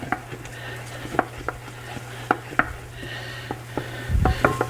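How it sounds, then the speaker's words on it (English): A thickening roux-like mixture for spicy beer cheese stirred in a pan, with sharp intermittent taps and scrapes of the utensil at an irregular pace against a low steady hum, heard up close with no voices. "we're just going to keep stirring that for about a minute"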